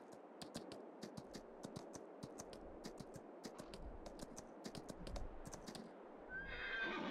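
Horses in the video game Farming Simulator 22 whinny repeatedly over a steady bed of hooves clip-clopping, with sharp clicky taps scattered throughout, ending in a brighter rising tone.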